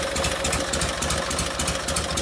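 Cold 1952 Harley-Davidson panhead engine with a Linkert carburetor idling, a loud, close, uneven lumpy chug with rhythmic pulses and a steady tonal hum, running alone without talk.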